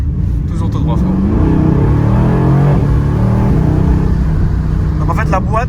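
A Mercedes-AMG car pulls away hard from a stop, its engine rumbling loud and steady as it accelerates, with brief talk audible near the start and end.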